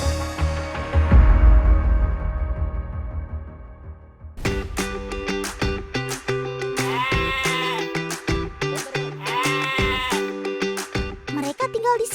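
Batur sheep in the cold Dieng highlands, one ewe about to give birth, bleat over and over in short wavering calls. The calls are close and loud, with people talking around them after a softer, noisier opening.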